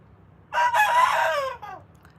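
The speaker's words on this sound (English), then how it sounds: "I hear you, Big Bird. That's my rooster." A rooster crows once, loud and close, its long rising-then-falling call standing out against a quiet background.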